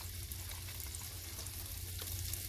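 Onions frying in a pan, seasoned with salt and pepper, give a steady close sizzle that holds at an even level throughout.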